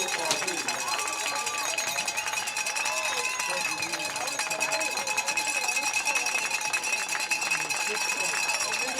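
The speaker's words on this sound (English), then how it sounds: "Round of applause here from the crowd and from me." A crowd at a high school football playoff game, MKA versus Fieldston, gives steady, dense applause and cheering that runs the whole time, with an announcer's voice on top.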